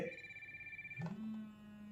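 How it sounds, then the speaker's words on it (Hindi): A Fire Boltt Hercules smartwatch rings at lowered volume with a thin electronic ringtone: a steady high pulsing tone that drops into a lower sustained note partway through, faint and alone. "इस तरीके से आप जो वॉल्यूम है उसे कम कर सकते हो रिंगटोन के वॉल्यूम को"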